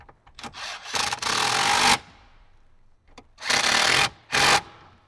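Bottom 8 mm bolts holding an Alpine head unit in a Jeep Wrangler JL dash being tightened, heard as a few bursts of close ratcheting and scraping with quiet pauses between them.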